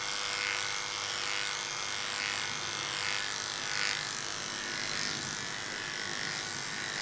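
Electric clippers trim a three-legged dog's coat at a grooming table, a steady close buzzing hum that runs without a break throughout, with slight swells as the blades move through the fur.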